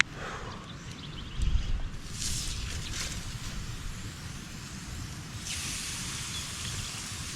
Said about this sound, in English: I don't know if you can hear that, but that is sizzling.